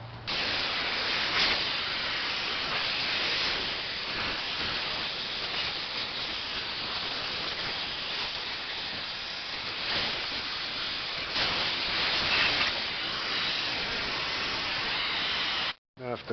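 Compressed air blasts thick rust debris off a severely rusted bolt with a continuous, loud, rushing hiss that barely varies, then cuts off abruptly at the end.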